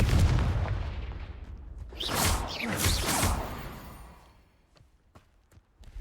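A Confringo blasting spell explodes in the Hogwarts Legacy video game: a heavy low boom opens, a whooshing, crackling surge follows, and the sound fades out to near quiet with a few faint ticks.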